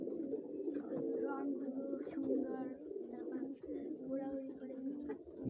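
Pigeons at a pigeon fair keep up a dense, continuous chorus of low, overlapping coos that fill the whole stretch.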